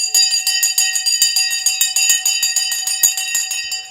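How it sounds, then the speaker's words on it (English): A stock exchange opening bell, rapid continuous metallic clangs in quick repeated strikes with ringing overtones, sustained without pause. "The bell has gone."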